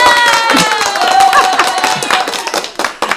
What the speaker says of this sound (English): we got to put some applause in here for you real quick